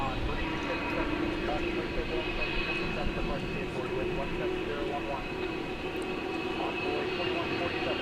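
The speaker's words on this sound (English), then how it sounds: "Go wide for a second to bring you a Spirit arrival" A Spirit airliner arriving at DFW Airport gives a steady, loud jet roar that holds level for the whole stretch, with broadband rumble and a faint whine on top and no clear pauses.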